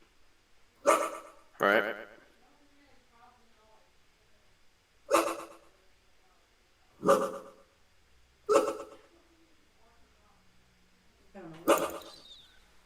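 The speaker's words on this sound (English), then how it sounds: "Somebody's dog is barking." A dog barks in six sharp, separate bursts spread over several seconds, fairly close and loud, with brief quiet talk in between.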